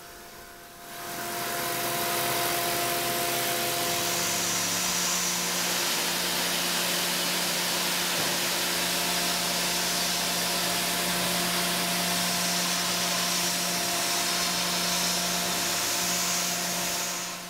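A milling machine faces a metal surface with a Superfly fly cutter, spinning up into a steady, loud whirring drone with a faint periodic tonal hum throughout and no voices.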